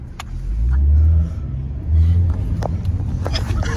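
A car pulls away with two swelling surges of engine revving and rumble, close by, while voices chatter underneath.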